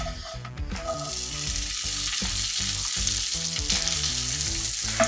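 Butter fries loudly in a hot pan for a stuffing base with andouille, a steady dense sizzle that runs throughout, crackling and spitting close to the ear with no voices.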